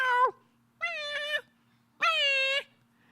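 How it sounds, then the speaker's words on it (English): Orange cat meowing three times, close and clear, each call rising and falling with a short pause between, the last one the longest and loudest, heard alone in a quiet room. "I heard this meow"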